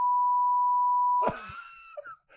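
A single steady, pure-toned censor beep held for over a second, cut off abruptly by a burst of voice and noise.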